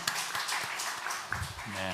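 A church congregation claps in thanks during a Sunday worship service, producing a dense burst of applause that fills the room for a couple of seconds, with a brief tonal voice or music sound near the end.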